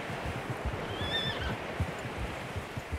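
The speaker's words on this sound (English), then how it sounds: "Horses, quite a few of them." Several horses whinny in a video game, a brief rising neigh standing out over a busy bed of hoof clops and outdoor rustle, moderately near.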